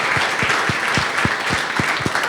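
An audience applauding JEE toppers at a class event: dense, steady clapping throughout, loud and close, with a few distinct hand claps standing out in a regular rhythm.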